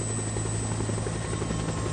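Rotors of a Bell Boeing V-22 Osprey tiltrotor military aircraft produce a steady, dense, throbbing roar that stays loud and constant throughout.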